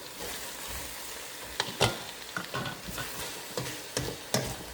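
Vegan ramen ingredients fry with white pepper and allspice in a pan, a low steady sizzle broken by sharp scrapes and knocks of a stirring utensil, close by.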